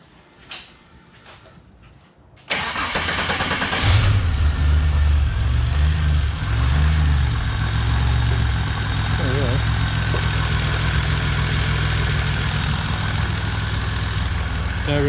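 An LS V8 car engine, just fitted with upgraded valve springs for boost, cranks and fires after a quiet moment, then settles into a loud, steady, slightly lumpy idle that continues close by.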